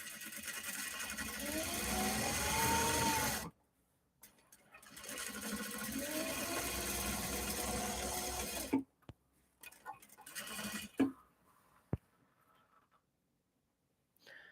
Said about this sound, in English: I back stitch over the webbing so that's got a little bit added strength